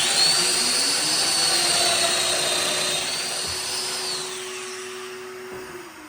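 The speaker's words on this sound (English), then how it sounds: "I'm using the number 6x40 dominoes, so I'm plunging in 20 millimeters on each side" A domino joiner plunging 20 mm mortises for 6x40 dominoes on its tight setting gives a loud, steady motor whine that holds for several seconds, then eases off and fades toward the end, with no talking.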